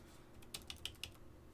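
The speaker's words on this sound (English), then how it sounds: "I'm going to go to global config, and I'm going to go ahead and type in router IS-IS1" Fingers tap a computer keyboard while entering router configuration commands. Five or six quick, light clicks come in a short run, faint and isolated against a quiet room hum.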